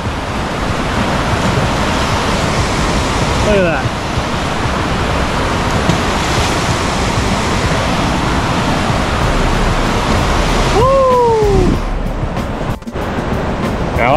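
Fast water rushes steadily through a wide creek channel, a loud continuous roar with no break, while someone says a few words over it.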